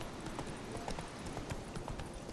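Horse hooves clip-clopping at a steady gallop while riding along a mountain in The Witcher 3, a rhythmic, fairly faint stream of hoofbeats over game ambience.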